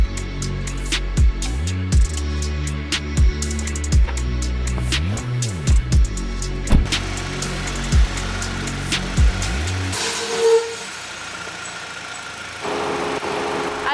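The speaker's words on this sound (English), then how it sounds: "The fans in the engine are very loud." A VW GTI engine bay's cooling fans run loud after a twenty-minute drive, a pulsing, cycling whir with repeated swells for about ten seconds before cutting off, leaving quieter background sound.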